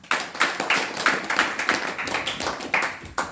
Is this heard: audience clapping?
yes